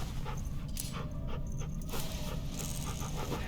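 A dog in The Walking Dead video game pants steadily with a few soft whimpers, close and fairly quiet over a constant low game ambience.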